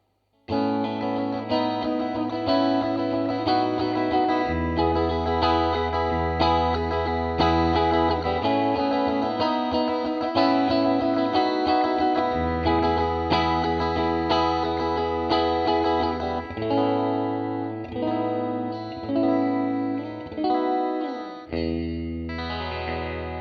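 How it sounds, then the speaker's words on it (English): Electric guitar run through a TC Electronic Hall of Fame pedal on its plate reverb setting, playing sustained strummed and picked chords with a shimmering wash, loud and continuous with no talking. "plate reverb sounds great with pretty much all guitar. It's a classic shimmery kind of effect that's great for strumming and finger picking as well"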